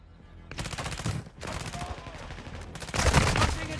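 Bursts of automatic gunfire from a Call of Duty multiplayer match, dense rattling volleys in two bouts separated by a brief lull, loud and close.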